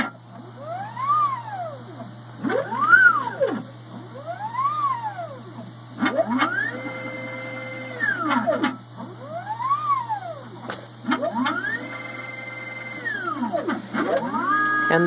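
A four-pump bottle filler machine runs a dry cycle with no bottles, its motors whining up and down in repeated arcing sweeps over a steady low hum, with brief clicks between strokes.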